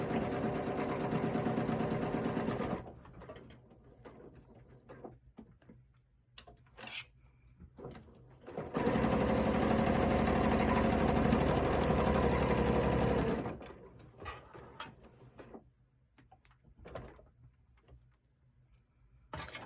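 A sewing machine stitches a pinwheel quilt block in creamy yellow and cream fabric, running in bursts: a loud steady run at the start, brief stop-start spurts in the middle, a long sustained run, then short taps and pauses.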